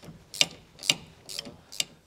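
Nuts are removed from the tandem-axle suspension of a 2020 Keystone trailer during an equalizer install, giving four sharp ratcheting clicks spaced about half a second apart, close and fairly loud against near silence.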